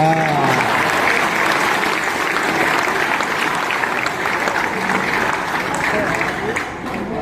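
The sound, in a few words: applause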